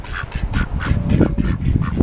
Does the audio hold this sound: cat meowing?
no